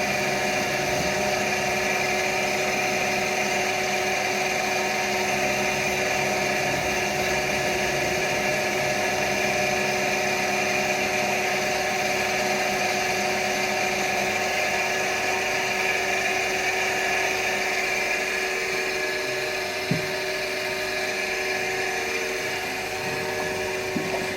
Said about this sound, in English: I'm just trying to round the top a little bit off so you don't cut yourself.